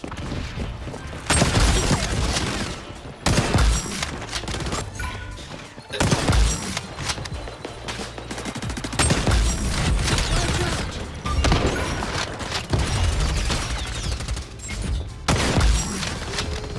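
Sustained light machine gun bursts in the video game XDefiant rattle loudly and close, long stretches of rapid fire broken by short gaps, with faint booms mixed in.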